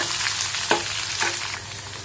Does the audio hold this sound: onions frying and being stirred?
yes